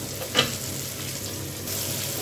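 Salted potato pieces frying in a pan sizzle steadily and close by, with one brief, sharper stirring scrape near the start.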